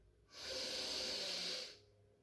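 A single slow, deep breath during meditation, heard as a close, soft, airy hiss that swells and fades over about a second and a half in a quiet room.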